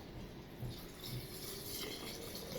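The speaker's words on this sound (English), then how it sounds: "you're going to just pour your hot water in" Hot water poured into a canning jar while making cranberry juice, a steady soft trickling and filling sound, fairly faint and continuous for a couple of seconds with no talk.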